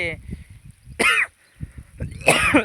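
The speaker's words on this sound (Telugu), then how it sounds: "దగ్గు చేసా" A person nearby gives two sharp, harsh coughs about a second apart, with brief throaty vocal sounds in between.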